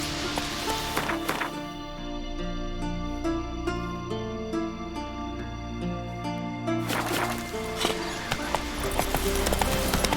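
Roach the horse in The Witcher 3 gallops with evenly spaced clip-clopping hoofbeats that run steadily under a layered musical score, the rhythm clear and close throughout.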